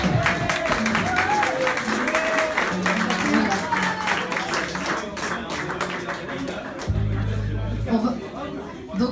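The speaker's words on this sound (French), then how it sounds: "vous pourriez quand même encore l'applaudir" Audience at the opening of a solidarity café in Avranches, France, applauding with sustained clapping mixed with chatter and crowd murmur, fading slightly toward the end.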